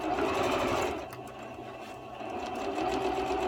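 A Jaguar 405 sewing machine stitches a drawstring bag in a loud, continuous mechanical whirr. It slows briefly in the middle, then speeds back up.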